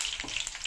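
Curry leaves crackle and sizzle in hot tempering oil for a bitter gourd pickle, stirred through a short, steady burst of close frying noise.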